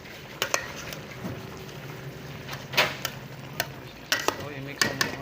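Chicken adobo stirred in a pan with a utensil, irregular scraping knocks over a continuous soft sizzle, close and moderately loud.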